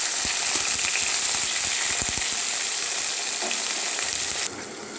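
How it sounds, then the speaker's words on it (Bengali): Pieces of aubergine sizzle in frying oil with a dense, constant crackle and a few stirring clicks, then the sizzling drops abruptly quieter near the end. "বেগুনগুলো ফ্রাই করে নিয়ে আগে"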